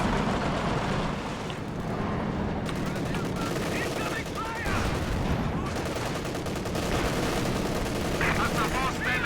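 MG42 machine gun bursts and anti-tank gunfire in the strategy game Company of Heroes 2, a dense, loud, steady barrage of rattling shots and booms throughout, with voices faintly underneath.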